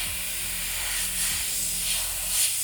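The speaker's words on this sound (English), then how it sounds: "And I'm holding the airbrush" Close, steady airshot hiss from an airbrush spraying paint onto a fishing lure, rising in short soft pulses as the trigger is worked.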